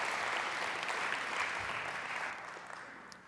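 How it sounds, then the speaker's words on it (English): An evening lecture audience applauds as the lecturer begins, a sustained dense round of clapping that fades toward the end. "Let's give Peter a round of applause as he begins his lecture to us tonight."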